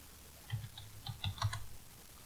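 Keys on a computer keyboard clatter in a few quick, uneven bursts of clicks, close and fairly soft, with brief pauses between them and no voices.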